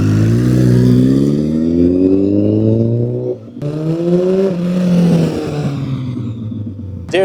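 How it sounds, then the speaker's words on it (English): A Kawasaki ZX-14R 1400cc motorcycle engine revs loudly up close, with rising and falling pitch over two long pulls separated by a brief dip, no talking. "This is ZX-14R, 1400cc, is one of the fastest production bikes ever made."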